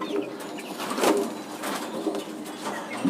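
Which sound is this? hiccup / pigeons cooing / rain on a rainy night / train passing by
pigeons cooing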